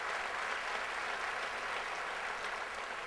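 A festival crowd gives a round of applause for the event sponsors, a steady, faint, distant wash of clapping with no break.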